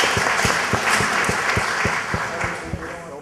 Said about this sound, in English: let's hear a round of applause for the doctor.